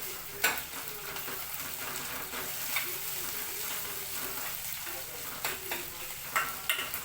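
Ginger garlic paste sizzles and fries in a pan for a carrot and urad dal curry, giving a steady crackling hiss broken by a few sharp stirring clicks, with no talking.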